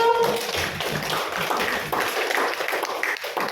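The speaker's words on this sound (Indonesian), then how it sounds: "Tepuk tangan untuk kelompok biru" Classroom applause for a student group, a short burst of many hands clapping together at close range, dense and fairly loud.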